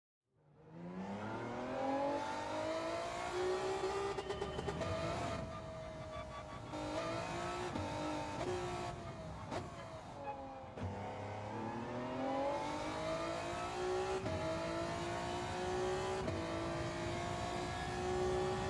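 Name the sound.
Honda NSX race car engine in Gran Turismo video game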